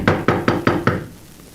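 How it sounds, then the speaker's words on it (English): Knocking on a door in an old-time radio drama, five quick evenly spaced raps, loud and close, followed by a short quiet tail. "You going to knock?"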